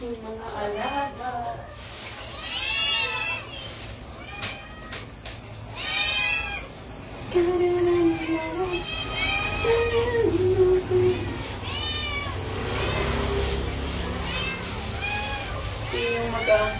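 Hungry domestic cats meow repeatedly before feeding, several voices overlapping in an ongoing chorus under a person talking nearby, with rustling and background noise throughout.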